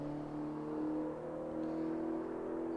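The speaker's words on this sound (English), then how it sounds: "And you hear the Hemi car get to a 1030, 133 miles an hour, as it's just a nice warm-up lap there." Hemi-powered drag racing car accelerating on a warm-up lap, heard as a steady, fairly distant whining engine note that rises gradually in pitch throughout.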